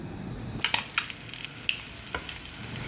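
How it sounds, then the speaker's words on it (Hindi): Eggs frying in a pan for egg jalfrezi, with a steady close sizzle and a few sharp crackles and pops scattered through, no talking. "इसी तरीके से मैं सारे अंडे फ्राई करूँगी"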